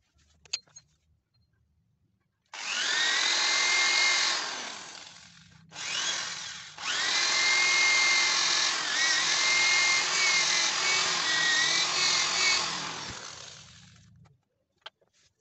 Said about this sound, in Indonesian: Nanti kita bor, terus kita lem resin.